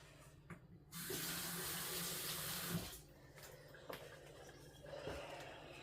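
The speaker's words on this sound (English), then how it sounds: "I'm going to rinse my hands really quick." Running kitchen tap rinsing hands, a steady close rush of water pouring for about two seconds, then lighter splashing and trickling as the flow eases, with small clinks near the sink.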